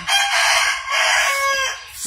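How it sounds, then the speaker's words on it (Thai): A rooster crows loudly and close by in two long, drawn-out calls, with a brief start of a third at the end, heard alone in a home kitchen setting. "คุณไก่ก็เสียงดีจังเลย"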